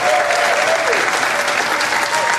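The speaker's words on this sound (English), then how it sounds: "give yourselves a massive round of applause" A large audience at a social media marketing workshop claps in a steady, dense round of applause that fills the room from start to finish.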